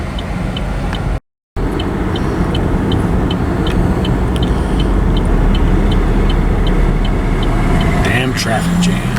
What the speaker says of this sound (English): we're out here on Route 80 and traffic is slowed down to a snail crawl